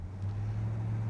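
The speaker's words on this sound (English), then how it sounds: "Exhaust sounds awesome on her." Exhaust of a 1967 Pontiac GTO while driving, a low steady rumbling drone with a strong deep tone, close and continuous for a brief stretch.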